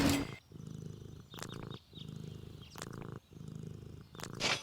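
A cartoon cat purrs in Deponia, a steady low rumbling purr in repeated breath cycles with short gaps between them, close and fairly loud, alone with no talk.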